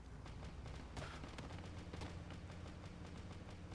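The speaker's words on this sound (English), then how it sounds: "I can see gunfire." Distant gunfire in a military shooter game, a faint, steady crackle of shots and low rumbling bursts continuing without pause.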